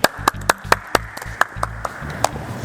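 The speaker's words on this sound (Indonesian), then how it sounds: "Tepuk tangan" Hands clapping in a run of about ten sharp, uneven claps spread over a few seconds, fairly close and alone, with no talk over them.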